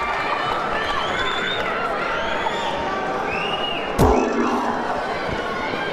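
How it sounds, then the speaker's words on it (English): A crowd at a 10k karate tournament cheers and roars steadily throughout. A single sharp thud stands out near the end, and a commentator talks over the noise. "hark at that crowd. It's electric, isn't it?"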